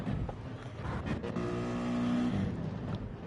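A turbocharged race car engine in a video game roars steadily, revving with a rising whine near the end, loud and close, with no talking.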